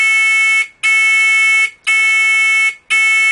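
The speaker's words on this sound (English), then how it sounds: "you'll notice the beep is a little bit different" A loud, harsh electronic warning tone from a Terrain Trakka rollover prevention system blares in long pulses, three full beeps with short gaps between them, steady and close.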